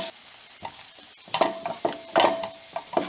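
Curry leaves sautéing in a pan for a Kerala snack, with a soft sizzle under repeated scraping stirs of a spoon against the pan, close and fairly loud.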